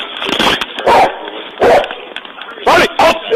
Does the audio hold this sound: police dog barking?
yes